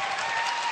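Applause from an activist audience at a talk radio event, a dense steady wash of clapping that stays loud and even for under a second with no voices on top.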